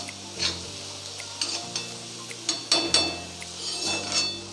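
Prawns in ginger-garlic paste sizzle in a pan as a spoon stirs them, with scattered scraping and clinking strokes over a continuous hiss and soft background music.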